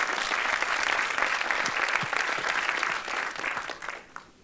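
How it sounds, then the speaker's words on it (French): Sustained applause from a large audience, dense and steady clapping that fades toward the end. "Sous vos applaudissements nourris également"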